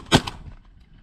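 A single shotgun shot fired while hunting pigeons outdoors, a sharp, fairly close blast followed by a softer echo and a fading tail.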